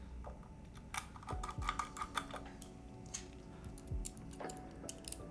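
Typing on an AKB OGR mechanical keyboard, a bottom-mount build with Cherry MX clear-top switches, gives soft, close clacky keystrokes in irregular bursts over a quiet room hum.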